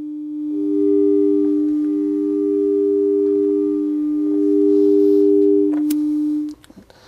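A pure electronic test tone, the lower note of a 3:4 frequency ratio, hums steadily for about six seconds with a faint second tone alongside, then cuts off with a small click.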